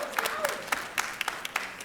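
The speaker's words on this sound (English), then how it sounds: "so keep clapping, enjoy it" Audience of parents clapping at an evening school informational meeting for incoming high school freshmen, a steady patter of applause across the room with a few sharper claps standing out.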